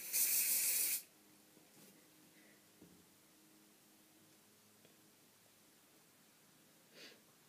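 A single loud, close burst of hairspray hisses onto styled hair for about a second, then gives way to near silence with a few soft handling taps and a brief faint puff near the end.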